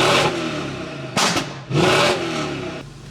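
A 650HP Mercedes CLS 55 AMG on a test drive roars under hard acceleration, its engine note climbing loudly, breaking off briefly at a shift, then surging again before easing.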